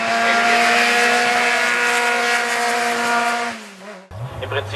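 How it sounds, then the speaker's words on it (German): Race car with a 180-degree V engine (flat layout) at a hill climb race near Osnabrück, a loud sustained engine roar holding a steady pitch close by, dropping away near the end before another car's noise rises. "Im Prinzip ein V-Motor mit einem Winkel von 180 Grad"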